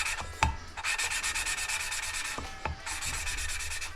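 Engine valves being lapped by hand with fine-grit compound, a steady gritty rubbing and scraping that runs continuously, close up, with a few sharp knocks of the valve against its seat.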